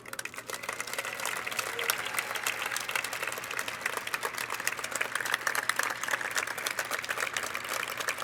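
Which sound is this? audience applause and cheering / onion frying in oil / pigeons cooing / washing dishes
audience applause and cheering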